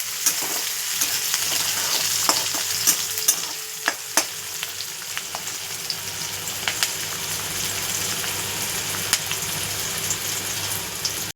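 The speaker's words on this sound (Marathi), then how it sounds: "एक कांदा चिरून घेतलेला आहे आपण तो कांदा टाकल्याने आणि असं मिक्स करून घेणार" Chopped onion fries in a pan with a steady, close sizzle, while a utensil stirs it and scrapes and taps against the pan at irregular intervals.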